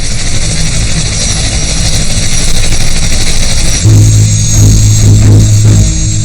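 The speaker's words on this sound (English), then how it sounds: "In this case, at least 3 other helicopters are included in the president's entourage." Presidential entourage helicopters fly overhead, a loud continuous rotor and engine roar with steady broadband noise and a low throbbing beat that strengthens partway through.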